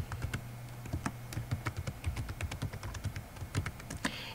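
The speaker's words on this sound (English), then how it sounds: "I think I'll type it in like 5 times." Rapid, irregular clicking of keys on a computer keyboard, close and fairly quiet, with short pauses between bursts of keystrokes.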